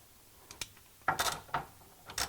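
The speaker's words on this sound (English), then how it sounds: "I've got an extendable ratchet here with a 15mm socket on it. I'm going to see if I can get it to break loose." An extendable ratchet with a 15mm socket breaks loose a bolt on the rear upper control arm of a 2002-2007 Jeep Liberty: a couple of faint clicks, then several loud, close ratcheting bursts with no talk.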